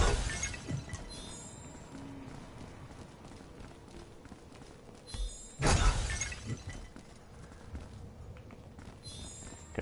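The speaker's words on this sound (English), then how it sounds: "I'm going to smash up some more jars." Breakable jars smashing in the Mortal Kombat 11 Krypt, two sharp crashes of shattering pottery, the second louder and fuller, set among soft running footsteps and ambient game sound, with no talk.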